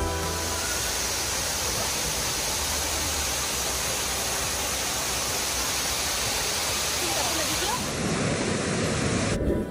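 Waterfall in the Korean mountains during the monsoon season, a steady, loud broadband roar of falling water that fills the whole clip close by, with no talk over it.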